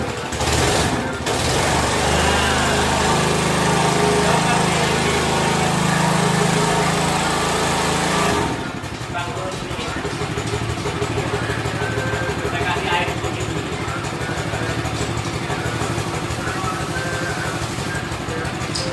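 Petrol-engine floor brush scrubbing machine runs with a loud, steady engine drone, the throttle pulled by the right-hand grip; the pitch drops and shifts partway through as the load changes, with faint talk underneath.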